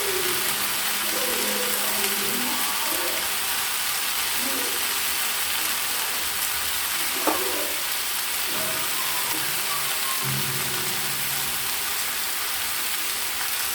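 Eggplant and ridge gourd with turmeric sizzle steadily in a home kitchen pan, a constant hiss with faint stirring knocks, and quiet voices audible underneath.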